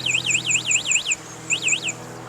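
The anti-theft alarm of a DYU A1F folding electric bike sounds close by in fast, warbling electronic chirps, two bursts separated by a short pause.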